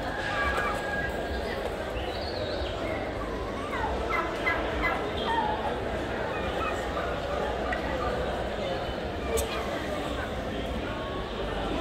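A flock of turkeys gobbles continuously amid dense animal market noise, with people talking over the din.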